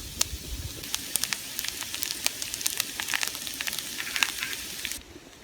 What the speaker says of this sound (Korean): 이제 조금씩 타는 소리가 들립니다.